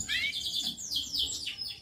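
Farm-bred canary chicks chirp in quick, high, thin tweets, a close and steady run of overlapping calls with faint background hum.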